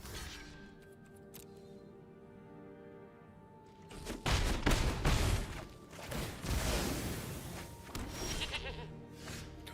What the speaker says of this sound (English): This goat.